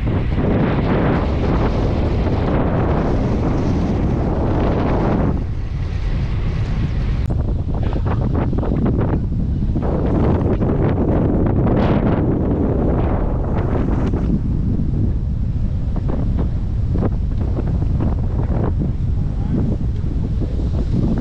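Strong wind in Glendalo, Palawan, roars and buffets the microphone continuously, a loud, gusting rush with no pauses and no voices.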